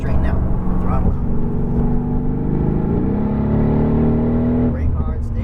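A Mercedes AMG GT R on a racing circuit accelerates hard, its engine note climbing steadily with a clear gear shift partway through, loud and close from inside the car, while a voice talks over it.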